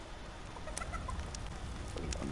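A chicken clucking in the video game Fortnite, a few short, soft clucks heard up close over faint game background noise.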